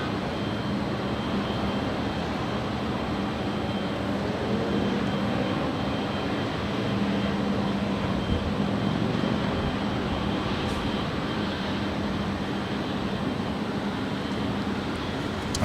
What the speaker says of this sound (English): the Air France 777-300ER heading over to 24 left